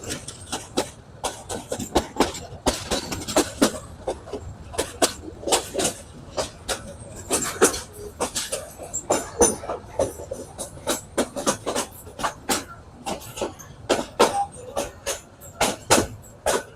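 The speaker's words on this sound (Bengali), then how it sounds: "এটি হচ্ছে চট্টগ্রাম থেকে এসেছে, যেটি জামালপুর যাবে বিজয় এক্সপ্রেস ট্রেন।" The Bijoy Express passenger train from Chattogram to Jamalpur runs on rails, with loud, rhythmic clickety-clack wheel beats over a low rumble that keep repeating throughout, heard close from on board.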